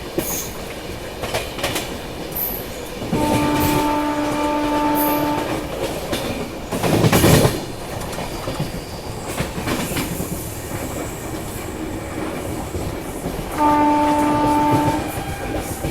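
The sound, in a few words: passenger train passing with horn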